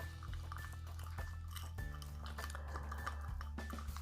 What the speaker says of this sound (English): we are going to mix all our ingredients together